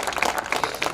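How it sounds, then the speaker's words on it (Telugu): An audience at a speech in Kompally claps briefly, a short burst of scattered hand claps close by with no talk over it. "గట్టిగా చప్పట్లు కొట్టండి"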